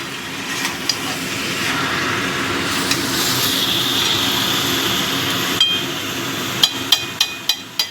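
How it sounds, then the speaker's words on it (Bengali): Chicken pieces fry in oil in a pan over a gas flame, a steady close sizzle with occasional spoon scrapes, ending in a run of sharp metallic knocks against the pan. "এবার মাংসটাকে ভালো মতো কষাবো"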